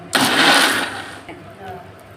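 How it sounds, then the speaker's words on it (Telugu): A kitchen mixer grinder blends tomato pickle with chili powder: a loud motor whir starts abruptly, runs for about a second, then dies away into quieter residual noise. "ఇప్పుడు ఆ కారం కూడా అందులో వేసేసి మిక్సీ పట్టాలి"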